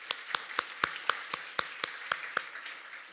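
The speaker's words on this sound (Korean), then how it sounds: "우리 하나님께 감사와 영광의 박수를 드리겠습니다" Clapping during a Korean church Sunday worship service comes as about a dozen evenly spaced claps, moderately faint and slightly reverberant, each a sharp distinct hit in steady rhythm.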